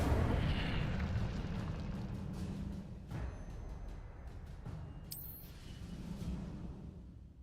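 Fire spell cast in the Hogwarts Legacy video game, a roaring whooshing burst with explosive rumble sustained throughout, a brief sharp flare near the middle, no talk.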